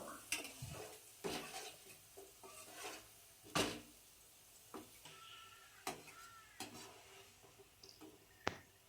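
Quiet scraping and stirring in a pan, with occasional clinks of a utensil against metal over a faint sizzle of potatoes frying in oil with salt and turmeric.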